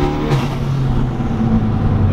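A Hyundai Veloster fitted with a short shifter accelerates with turbo boost, heard from inside as a loud, steady engine drone that builds slightly, with no talking.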